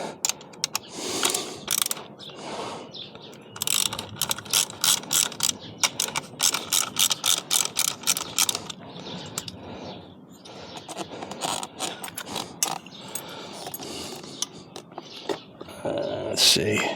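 Ratchet wrench clicking as it backs out a 10mm bolt near the battery on a Royal Enfield 650 motorcycle, with rapid bursts of close mechanical clicks in several runs and short pauses between.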